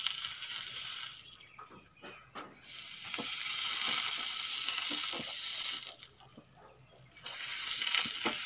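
Masala chitoi pitha frying in hot oil, a loud broadband sizzle that swells and fades twice, with short dips between bursts and faint clicks and scrapes, no speech.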